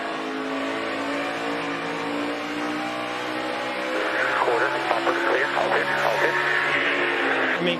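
An onboard view of Kurt Busch's NASCAR race car at Phoenix, a steady high engine drone held at speed, with race commentary and radio chatter running over it.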